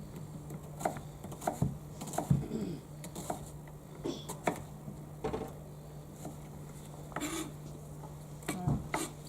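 A knife chopping an onion on a board in a school kitchen, sparse soft taps at an irregular pace over a low steady hum, close and faint.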